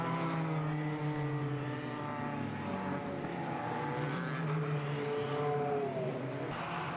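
A GP2 Dallara race car with a Mecachrome engine idles after being fired up, a harmonic engine drone that rises and falls slightly and stays steady and fairly close.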